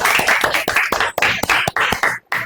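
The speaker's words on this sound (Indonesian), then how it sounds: "tepuk tangan untuk kita semua" Classroom audience claps in a lively, uneven burst of sharp hand claps with a few distinct rhythmic strikes, close and loud, stopping briefly near the end before a final clap.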